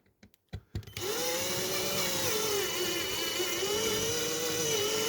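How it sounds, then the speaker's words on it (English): An electric drill bores out a rivet on a diecast model base plate, a few short bursts and clicks first, then a sustained steady whine running alone and close. "Just lean your drill a little bit left and right"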